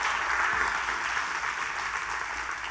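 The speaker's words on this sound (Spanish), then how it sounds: "Dale ese aplauso a Dios" Church congregation applauding during a Spanish-language sermon, a dense steady wash of clapping from many hands that holds throughout, full and fairly loud.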